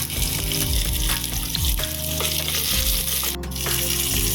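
Onions, green chillies and crushed ginger-garlic fry in hot oil for biryani, a steady close sizzle under layered tonal background music, with a sharp brief burst near the end.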